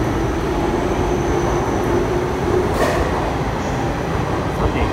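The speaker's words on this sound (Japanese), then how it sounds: "9番線から湘南ライナー13号発車していきましたね" Loud, steady rumble of the Shonan Liner commuter train departing a Tokyo station platform close by, with a continuous roar and faint squeals.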